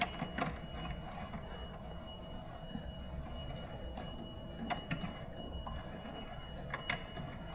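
A ratchet wrench retightens a 17 mm nut during a bicycle front wheel installation, giving faint, intermittent clicks over a low mechanical background hum.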